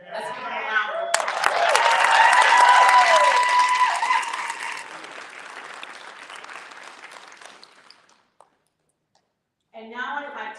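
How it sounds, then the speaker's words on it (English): A burst of applause with some cheering from a press-conference audience after the speakers, loud at first and then tapering off over several seconds before fading to silence, with a single voice talking before and after. "Let's give them a round of applause."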